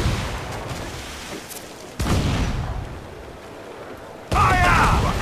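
Ship cannons fire in a naval battle in the video game Assassin's Creed 4 Black Flag, with two sudden loud booms a few seconds apart, each followed by a rumbling tail, amid game sound effects and faint voices.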